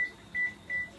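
Short electronic beeps from an oven keypad as the baking temperature is set, four evenly spaced tones about a third of a second apart, clear and alone in a quiet kitchen.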